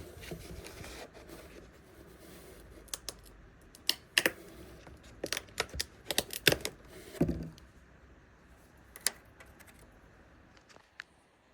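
MacBook Pro space bar keycap being pressed back onto its stabilizers and clips, giving a scatter of sharp plastic clicks and snaps, some clustered, over quiet handling rustle.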